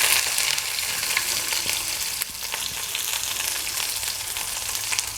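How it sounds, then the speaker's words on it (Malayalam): Mustard seeds, dried red chillies and shallots sautéing in hot oil for a pumpkin flower dish, a close, steady crackling sizzle throughout. "ഇതെല്ലാം ഒന്ന് വഴറ്റിയെടുക്കാം."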